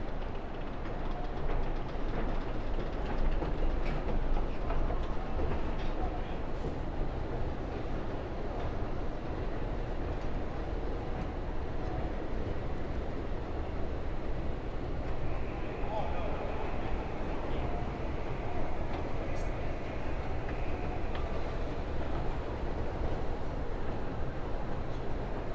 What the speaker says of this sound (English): we are officially here at Grand Central Station